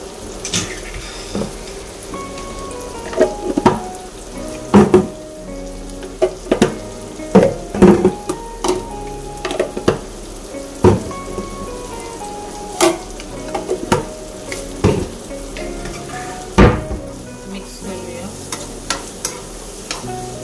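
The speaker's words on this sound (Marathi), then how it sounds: "कांदा टमाटो शिजू द्यायचे." Onion and tomato stirred and frying in a pan for Marathi tempered rice, a soft sizzle under repeated scraping and clinking of a spoon against the pan, irregular and close.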